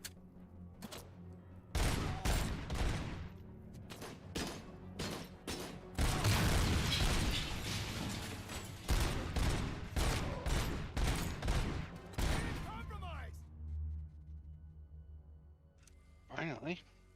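Heavy gunfire in RoboCop: Rogue City on PS5, with dense bursts of loud shots and booms coming in clusters over many seconds and then tapering into quieter scattered sounds.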